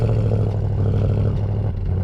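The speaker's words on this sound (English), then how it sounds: "You get a nice rumble from the exhaust note." An Audi S8 engine runs with a deep, steady exhaust rumble, loud and close, with a little mechanical clatter on top. It holds an even drone for about two seconds, and no one speaks.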